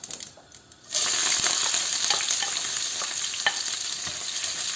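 Green chillies and curry leaves drop into hot oil in a pan and burst into loud, continuous crackling sizzle after a brief quiet moment, close by, with scattered sharp pops and no speech.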